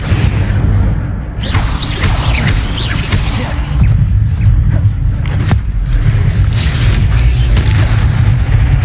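Incendio fire spell cast in Hogwarts Legacy on PC, with loud booming bursts and swooshing whooshes layered over a constant low rumble of spell effects and combat throughout.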